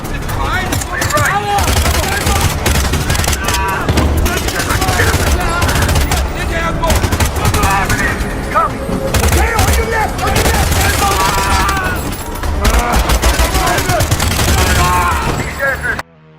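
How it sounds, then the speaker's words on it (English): Intense action-movie shootout with rapid, continuous gunfire and bursts over a heavy music bed, loud and dense almost throughout before cutting off abruptly at the end. "After a brief period of intense gunfire"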